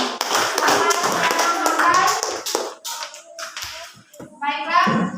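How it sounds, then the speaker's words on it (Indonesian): Children clap together in a classroom during a lesson, a burst of quick hand claps mixed with young voices, loud and close, with a teacher's voice also heard. "Iya, tepuk tangan."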